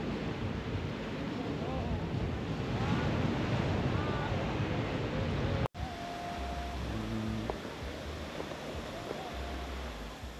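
Surf rolls onto Patong Beach in Phuket, Thailand, as a steady, full wash of breaking waves and wind. Midway a brief dropout interrupts it, and low engine-like tones from nearby traffic then join the waves.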